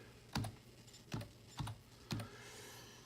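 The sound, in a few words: typing on a computer keyboard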